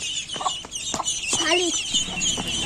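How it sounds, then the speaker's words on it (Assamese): A hen clucks in short, close bursts while tending a brood of ducklings, with a few higher chirps mixed in, fairly loud and unbroken by speech. "সৰু হাঁহৰ পোৱালি আৰু হাঁহৰ মাক হ'ল এই মুৰ্গী"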